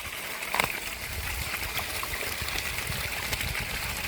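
Water pours at low pressure from the open end of a two-inch pipe fed by a 1500 W BLDC borewell pump, a steady, moderately quiet trickling splash with no talking.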